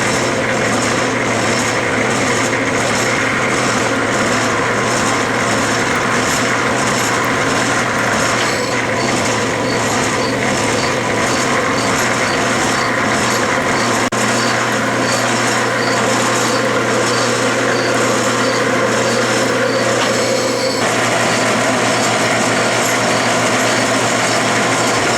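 A metal lathe runs in back gear at slow speed while a die cuts thread on a quarter-inch steel rod, a loud steady mechanical drone with a faint regular ticking, no voices.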